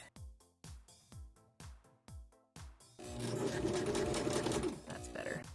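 Sewing machine zigzag stitching along the edge of a fabric face mask: a few slow rhythmic stitch bursts with pauses, then a steady continuous run of fast close stitching.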